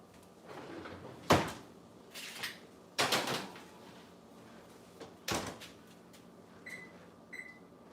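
A kitchen oven door opened and shut while chicken wings go in to broil: a few sharp clunks and thuds spaced apart, fairly close, with quiet handling noise between and a couple of short beeps near the end.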